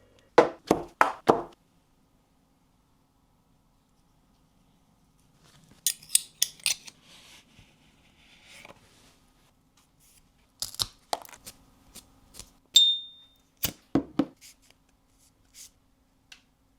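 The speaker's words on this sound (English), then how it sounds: "let's light cut and enjoy this cigar" A Bolivar Tesoro cigar being cut and lit, with short bursts of crisp snipping and clicking close by, then a quiet stretch, a sharp lighter strike and a few more clicks, without any talk.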